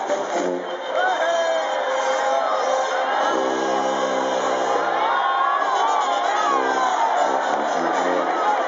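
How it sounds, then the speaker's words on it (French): Festive crowd at a Saint John horse festival in Minorca, Balearic Islands, with dense continuous shouting, cheering and singing voices filling the air, a loud steady roar of many people close by. "La chaleur étouffante, les cris, les chants et les rires créent une ambiance délirante."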